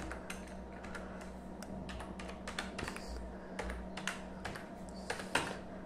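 A computer keyboard clicks as a COUNTBLANK formula is typed, with quick, uneven bursts of keystrokes close and fairly quiet over a faint low hum.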